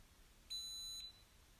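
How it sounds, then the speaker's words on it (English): A blood glucose meter gives a single short, high electronic beep, clear against a quiet room, once it is ready for testing. "once you hear the beep means it's ready"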